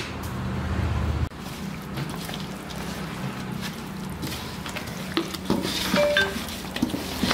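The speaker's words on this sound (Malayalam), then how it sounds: "ഇനി ഇതെല്ലാം കൂടി നമുക്കൊന്ന് മിക്സ് ചെയ്തെടുക്കാം" Kashmiri chilli and salt being mixed into pickle in a bowl, with close spoon scrapes, soft squelching stirs and light clinks of utensil on dish, no talking.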